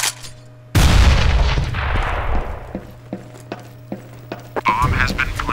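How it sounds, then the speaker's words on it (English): In Counter-Strike: Global Offensive, a grenade goes off with a loud, close blast that rumbles away, followed by a scatter of sharp gunshots and clicks, then another burst of noise at the end. "Throwing grenade!"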